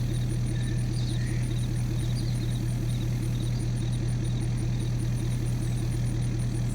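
A tractor engine runs in Farming Simulator 22, giving a steady, loud, unbroken mechanical drone with a faint pulsing rhythm and no talk over it.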